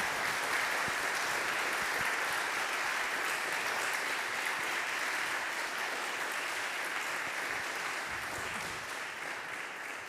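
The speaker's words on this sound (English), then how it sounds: "Let's give them a round of applause." Sustained applause from an audience at a church gathering on a pro-life theme, a dense, even wash of many hands clapping that holds steady for about ten seconds and fades slightly at the end.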